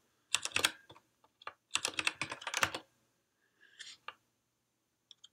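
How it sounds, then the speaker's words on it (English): Rapid bursts of computer keyboard typing at close range while text is entered in the Emacs editor, two quick flurries of keystrokes followed by a few scattered taps and pauses. "type some stuff"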